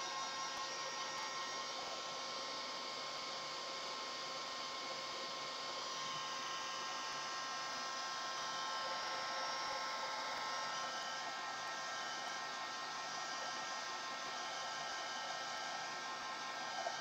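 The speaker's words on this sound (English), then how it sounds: "So I'm just going to heat set this." An electric heat tool blows steadily for about seventeen seconds, heat-setting paint on a floral canvas, with a constant airy hiss and hum and no talk.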